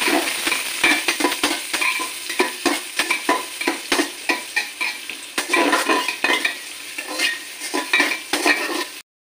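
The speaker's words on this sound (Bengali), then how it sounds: "এবার আমি পেঁয়াজ ছাড়বো। ভেজে দেবো।" Onions fry in hot oil in a pan, sizzling steadily while a utensil scrapes and clinks against the metal in quick, irregular strokes, close and alone without talk.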